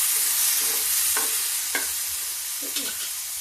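Boiled drumsticks (sahjan) frying in a pan with tempered spices, a bright continuous sizzle with a few soft stirring scrapes from a spoon.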